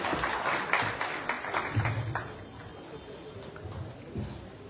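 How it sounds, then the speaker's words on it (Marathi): Audience applause rises and fades at a public event in Maharashtra honoring senior citizens with a member of parliament present, with a murmur of voices mixed into the steady clapping. "एकदा जोरदार टाळ्या"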